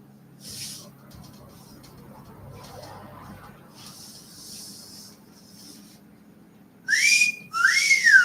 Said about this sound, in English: Is the only way I can whistle now since my lips don't work right.